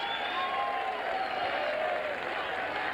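A boxing arena crowd applauds steadily after the WBC lightweight title fight between Stevie Johnston and Jose Luis Castillo, a dense, sustained wash of clapping at moderate distance.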